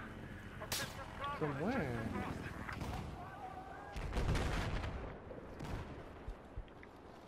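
Sniper shots and gunfire from the Battlefield 4 video game crack sharply through a busy mix of battle noise, with several loud impacts and a burst near the middle, while players talk over the action.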